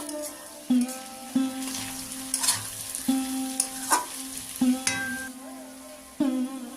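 Diced potatoes and sliced onions fry in oil for Bengali street-style ghugni, a close sizzle broken by repeated sharp stirring scrapes and clatters against the pan, with no talk.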